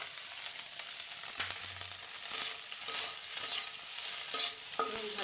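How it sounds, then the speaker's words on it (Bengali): Cooked rice stir-fried in a pan with cumin powder, with a steady sizzle broken by repeated scraping and stirring strokes of a spatula and no talk. "ভাতগুলো সুন্দর করে এখন ভেজে নেব"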